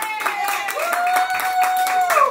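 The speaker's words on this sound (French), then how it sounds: "Il faut les applaudir." Guests at a traditional Kabiye wedding clap for the bride and groom, with rhythmic hand claps close by under singing voices that carry through the whole moment.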